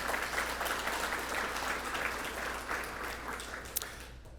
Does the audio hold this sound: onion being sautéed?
no